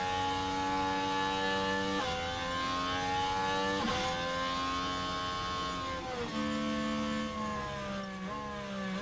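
Renault Formula 1 engine in the F1 Manager 23 racing game, a high-pitched whining drone that rises with acceleration and dips sharply at repeated gear shifts, steady and alone with no talk.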